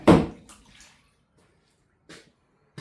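Black water draining out of a Leyland 154 tractor: a short, close splashing gush fades within a second, then two brief spatters follow after a silence.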